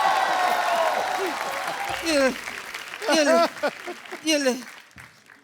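Audience applause on a Hindi comedy talk show with a host and two guests, loud clapping swelling in bursts beneath a man's lively speech.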